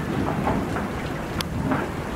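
A thunderstorm at a horse barn: steady heavy rain hisses throughout, with low rumbling thunder underneath and a sharp crack partway through, with no voices.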